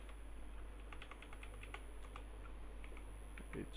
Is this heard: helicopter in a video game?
no